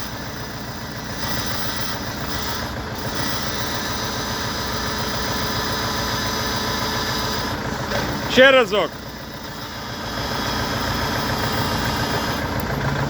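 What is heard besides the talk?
tractor engine idling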